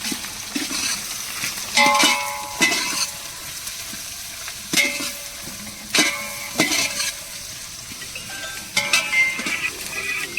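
Whole spices and bay leaf fry in a pot over an outdoor fire in a forest while chicken biryani is made, a close sizzle with repeated bursts of scraping and clanking as a metal spoon stirs against the pot.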